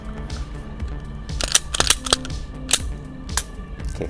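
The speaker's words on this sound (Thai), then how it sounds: "ปลดแมกกาซีนเคลียร์ปืน" A handgun has its magazine released and is cleared, giving a series of sharp metallic clicks and clacks at close range, irregularly spaced, over faint background hum.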